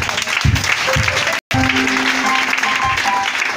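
Congregation at a Christmas service applauding and cheering for Jesus, steady loud clapping from a crowd with a brief cut in the middle.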